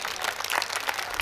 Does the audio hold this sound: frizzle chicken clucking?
no